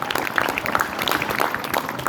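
Students clap at a school New Year celebration at Navodaya Vidyalaya Kabirdham, applauding the class 11 students: dense, continuous clapping from a crowd in a hall, fairly loud and steady throughout.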